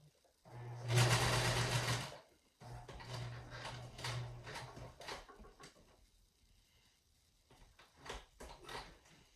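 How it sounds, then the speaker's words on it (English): A sewing machine whirs in two close bursts of rapid stitching along a fabric edge for a pleated face mask, followed by quieter clicks and handling noises. "I'm lining the edge of my fabric up with the gap in between the foot of the sewing machine pedal"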